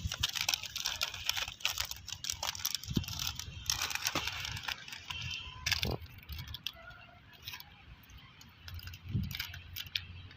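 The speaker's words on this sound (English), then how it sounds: "Then we have to cover the buds with the help of a butter paper" Butter paper rustles and crinkles as it is wrapped over emasculated mustard buds, with close, irregular crackling and a few sharper handling clicks, no voices.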